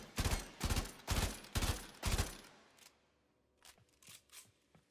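Burston burst rifle from the Warframe video game fires five loud, evenly spaced bursts up close, then a pause and a few quieter clicks and mechanical taps.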